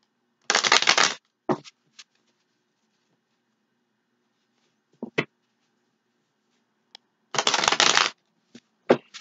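A Universal Tarot deck being shuffled: two crisp, riffling bursts about a second long at the start and near the end, with a few soft card taps and slaps between and after, close by in a quiet room.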